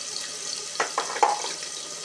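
Soft sizzling of onions sautéing in oil in a pan, with a few light scrapes and clinks of a utensil stirring.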